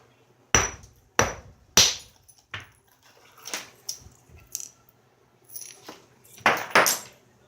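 A hammerstone striking the prepared platform on a stone core during flint knapping, giving a handful of sharp, close impacts at uneven intervals, some loud cracks and some lighter taps, in a quiet setting.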